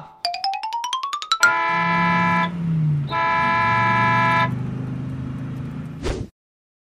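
A bus announces its arrival with a loud, close musical horn: a quick rising run of tones, then two long sustained blasts over a low rumbling engine.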